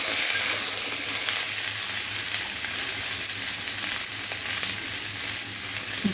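Cut ash gourd pieces frying in a pan, a steady bright sizzle with light crackle and occasional stirring, no talking.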